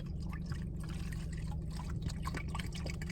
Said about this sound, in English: I got to get my little water pouch filled up